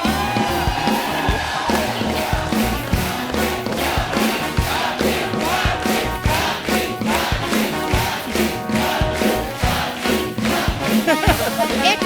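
A studio audience at a comedy show claps and cheers loudly and continuously, a dense wall of crowd noise with whoops mixed in.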